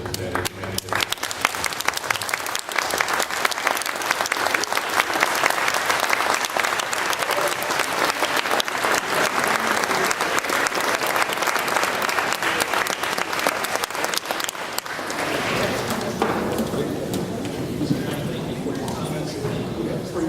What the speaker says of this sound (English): I'm hoping that everybody can show by a round of applause